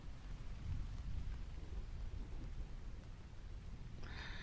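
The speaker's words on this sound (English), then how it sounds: "Distant Thunder." Distant thunder ambience with rain: a low, continuous rolling rumble, with a soft hiss that brightens near the end.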